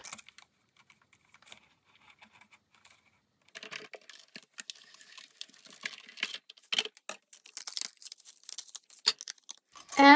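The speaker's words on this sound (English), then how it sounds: "Okay, I'll cut it out with my scissors." Crisp snipping and crinkling of scissors cutting through a thin acetate sheet, sparse at first and then quicker and louder, with no voices.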